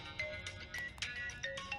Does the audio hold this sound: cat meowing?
no